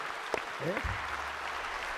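A church congregation breaks into applause, a brief burst of clapping close by, with a voice heard briefly over it.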